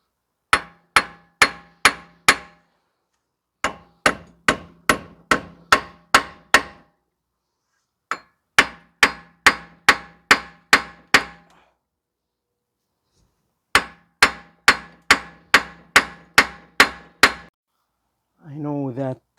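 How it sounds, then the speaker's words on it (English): Metallic hammer blows on the rear hub of a 2010 Subaru Outback 3.6 land in quick bursts of five to eight strikes, separated by short pauses, close and sharp, with a brief scrape at the end. "so you can just hammer here and that's it"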